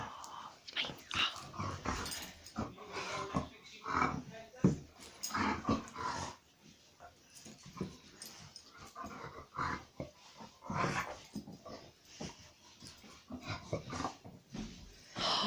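A dog growls, grumbles and whimpers close by in uneven bursts, its low rumbling sounds broken by short pauses over several seconds.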